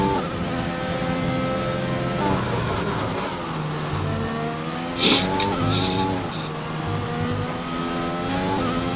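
A Williams race car lapping the Imola circuit in a racing game, engine screaming at high revs with rising and falling pitch through gear changes, a brief tire squeal midway, loud and continuous with no speech.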